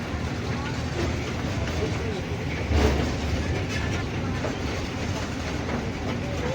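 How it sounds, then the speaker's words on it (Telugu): A train rolls past close by near Kotappakonda in a rural village, a continuous rumbling clatter of wagons with a brief louder thump midway, steady throughout. "ఇదిగో ట్రైన్ అది వెరైటీగా"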